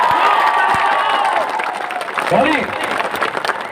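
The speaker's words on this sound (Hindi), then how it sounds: "हंसो के लिए भी ताली मारो।" A crowd at a joining program rally claps and cheers loudly, with children's shouts and a voice talking over the dense, continuous applause.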